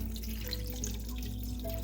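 Water pours steadily into a cooking pot to cover oxtails for simmering Hawaii-style oxtail soup, a continuous close rushing splash lasting the whole moment with no talking.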